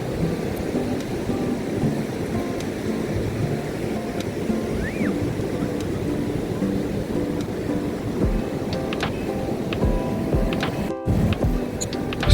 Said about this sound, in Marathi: समुद्राचा लाटांचा येणारा आवाज